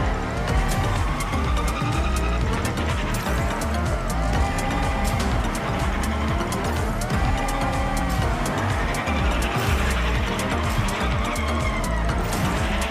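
Race cars in Fortnite Rocket Racing roar continuously at close range, with engine whine rising and falling through gear shifts and a steady dense hum, with some faint tire noise mixed in.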